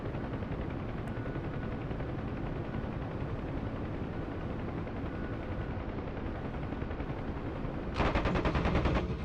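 Sustained rapid machine gun fire from a WWII aircraft in DCS World, Marianas air combat, a dense continuous rattle throughout with a louder, closer burst near the end.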